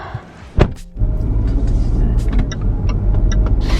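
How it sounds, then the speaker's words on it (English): A car starting to drive on a grocery run, a steady low engine and road rumble building after a brief knock and continuing close up, with a few faint higher ticks on top. "Taking Haley's car today."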